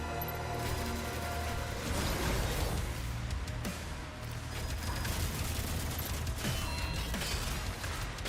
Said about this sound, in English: I dislike chain gunners.